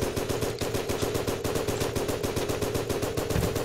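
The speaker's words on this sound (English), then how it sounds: "my weapon doesn't stop shooting" Nonstop automatic weapon fire in the video game Island Royale, with rapid, evenly spaced shots hammering without pause for the whole stretch, loud and close, and no voices.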